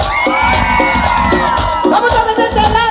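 A crowd at a live show shouts and whoops loudly and continuously, rising in bursts of cheering and yelling over a steady roar.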